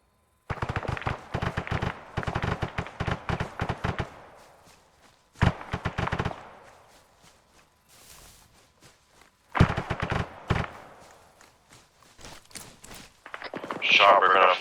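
Gunfire in the military shooter game Trial By Fire: several rapid bursts of automatic shots, loud and close, separated by pauses and trailing echoes, with brief radio-style chatter near the end.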